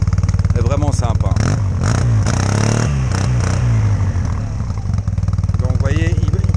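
A 2019 Yamaha TMax scooter fitted with an Akrapovic exhaust idles and revs loudly close by, its deep engine note rising and falling, with someone speaking French over it.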